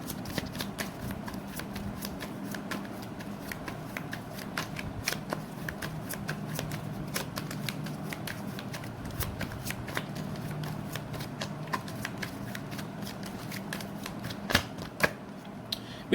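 Tarot cards are shuffled continuously for a reading, a soft, steady riffle of card edges close by with occasional sharper snaps, low in level and without talk.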